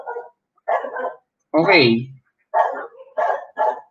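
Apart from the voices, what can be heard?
dog barking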